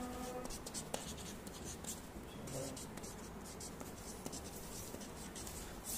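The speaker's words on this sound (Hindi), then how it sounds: "मैं हिंदी में लिख दे रहा हूँ" A pen writing text by hand in Hindi on paper, a quiet continuous scratching with short strokes and pauses, close and soft with faint background hum.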